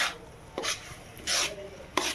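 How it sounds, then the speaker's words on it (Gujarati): Urad flour mixture being stirred in a pan over a low gas flame, with a few quiet, separate scraping strokes that are fairly close. "અડદનો લોટ નાખીને પછી તમારે એવી રીતે પ્રોપર મસ્ત રીતે મિક્સ કરવાનું છે"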